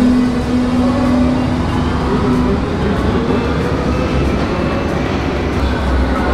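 Metro train on the move, heard from inside the carriage as a steady, loud rumble of wheels and motor with a sustained tonal hum, continuous throughout with no voices.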